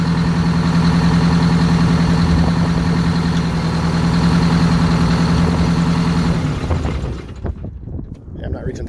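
Diesel engine of an MC8 coach running, a loud, close low throb with steady rhythmic knocking that shuts down abruptly near the end, leaving faint rustling; a voice speaks over it.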